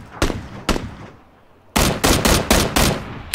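Gunfire in a shooter video game: two separate sharp shots, then a quick string of five or six loud, close shots in rapid succession, with no talking over them.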